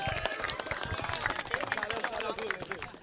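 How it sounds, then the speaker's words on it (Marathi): A cricket league crowd applauding the team captain at a prize ceremony, steady dense clapping with crowd noise, and voices talking over it. "आणि एकदा कॅप्टन साठी टाळ्या झाल्या पाहिजे."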